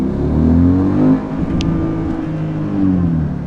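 A Dodge Charger 392 in track mode accelerating hard with quick paddle-shifted gear changes: a loud, close engine roar that drops at a shift and then pulls again, with no talk.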